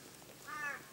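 A single crow gives a brief, harsh caw at moderate distance in the Australian bush.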